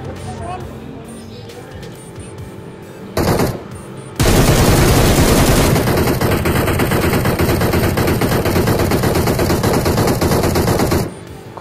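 Automatic gunfire in the mobile game PUBG Mobile, loud sustained bursts of rapid shots dominating most of the clip, with players talking over the shooting.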